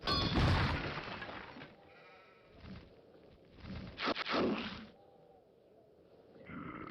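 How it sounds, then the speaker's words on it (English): Sheep bleat in the Hexen II video game, with several wavering calls at moderate volume, interspersed with short game effects that sound like something shattering. "I hear sheep."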